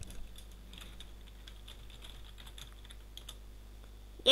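Rapid, steady typing on a computer keyboard, close and fairly quiet, with a sharper louder burst at the very end and no talking.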